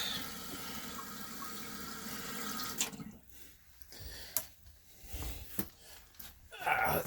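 Tap water runs into a container, a steady broadband rush for about three seconds, then stops, followed by scattered splashes, drips and handling knocks nearby.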